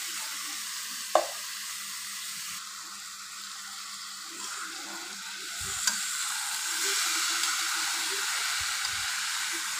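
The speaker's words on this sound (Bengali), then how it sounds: "আমি এখন সবজিগুলো দিয়ে দিচ্ছি" Mixed vegetables frying in spices in a home-cooking pan, giving a soft steady sizzle with occasional clinks and stirring scrapes, no voices.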